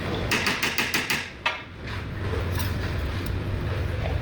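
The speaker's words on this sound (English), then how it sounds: "We need to pound it further in order for that to line up with one of the grooves." Fast run of about six close, sharp hammer blows driving a bearing retaining ring into a Lancaster Model 4220 hammer mill, followed by one more strike and then a steady low mechanical rumble.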